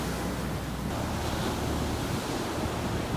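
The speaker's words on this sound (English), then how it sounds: "there's a few waves making now" Sea waves break and wash steadily onto a beach after a northerly gale, a continuous loud roar of surf mixed with wind buffeting the microphone, with no voices.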